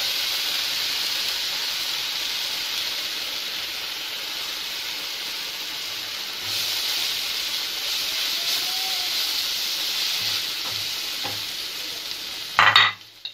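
Whole spices frying in a hot pan for a chicken egg roti dish, a steady close sizzle and hiss with stirring, ending in a brief louder clatter.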